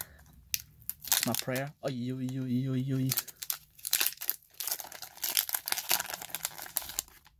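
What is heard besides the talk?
Pokémon Burning Shadows booster pack being opened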